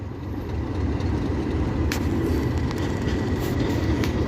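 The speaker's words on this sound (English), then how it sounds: "It's operating a network rail track cleaning service with BR Blue 37402 leading the way." A BR Blue Class 37 diesel locomotive, 37402, hauls a Network Rail track cleaning train, a loud, steady low rumble of engine and rolling wheels with faint rail squeals, no talking.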